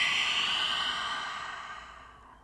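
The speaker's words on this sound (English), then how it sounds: "take a full breath in and then a full breath out." A long, full exhale during a guided breathing exercise, sounding close and breathy, steady at first and then tapering softly to nothing.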